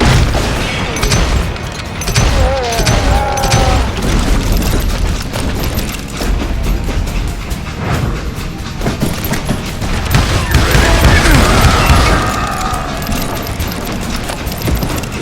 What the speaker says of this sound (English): just looking for Jim and shooting any son of a bitch stupid enough to get in my way